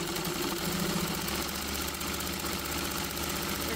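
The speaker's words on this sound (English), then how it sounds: "We're going to sew right down the center of this." A sewing machine stitching down the center of cotton flannel for a heat pad, with a steady, even motor hum and fast rhythmic needle chatter that runs without pause throughout.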